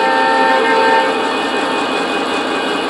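An SD80MAC locomotive sound decoder responds to a sudden throttle change, giving a steady loud diesel drone with sustained tonal hum, continuous and close with no speech.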